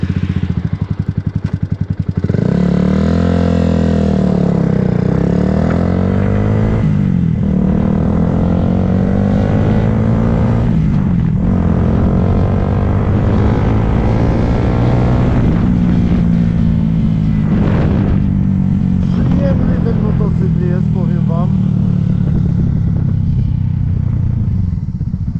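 A Yamaha R1 motorcycle engine roars loudly and close on a first ride, revving up and down through rising and falling pitch sweeps as it accelerates, with constant wind buffeting.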